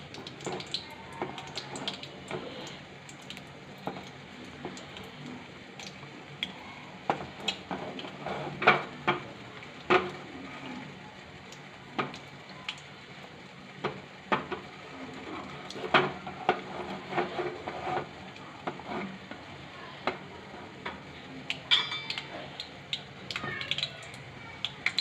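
Quiet scraping and clinking of a spoon stirring a kheer mixture in a pan over medium heat, with irregular soft knocks against the metal and intermittent scrapes throughout.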